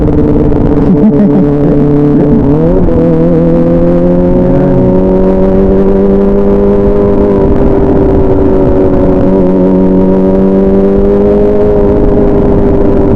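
A motorcycle engine rumbles steadily with a throaty exhaust note, briefly revving up early on, then settling into a sustained loud drone.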